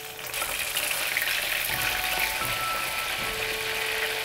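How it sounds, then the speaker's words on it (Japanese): Flathead fish pieces, marinated and coated in potato starch, deep-frying in hot oil. A steady, dense crackling sizzle holds throughout without any speech. "タレに1時間漬け込んだマゴチに片栗粉をまぶして揚げていきます。"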